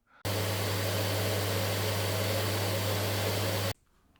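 An XFX 6900XT MERC319 graphics card's fans roar at full speed, a loud, steady broadband whoosh with a constant low hum, starting abruptly and cutting off sharply after about three and a half seconds.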